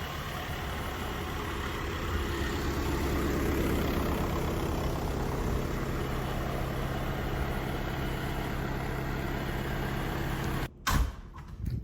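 A truck engine idling, a steady mid-pitched rumble held at close range and moderate loudness for most of the stretch, cut by a short bump or clatter near the end.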